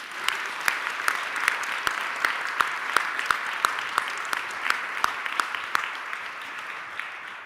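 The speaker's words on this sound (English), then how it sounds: "Please give me a big applause for him" A festival audience at a Berlinale Talents event applauds steadily, a dense wash of clapping with a few louder individual claps standing out, even and sustained throughout.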